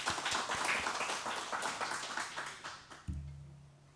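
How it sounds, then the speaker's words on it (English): Scattered applause from a small audience at a Melbourne CocoaHeads iOS developer meetup, a burst of clapping that thins out over about three seconds before a low hum takes over. "Round of applause for them too."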